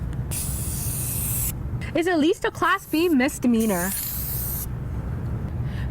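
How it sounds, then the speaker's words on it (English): A spray paint can hisses in long, loud bursts close by, before and after a stretch where someone speaks. "spray painting on the walls"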